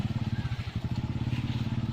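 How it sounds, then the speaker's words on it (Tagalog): Single motorcycle riding a very muddy rural road, its engine throbbing in a fast, even pulse, fairly close but moderately quiet. "bisan pa man og single nga motor maglisod siya agi niya mong dalan"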